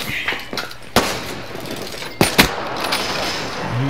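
Sniper rifle gunshots in a PS4 shooter game: two sharp, loud cracks about a second apart, the second followed by brief echoing clatter, over a low background hum.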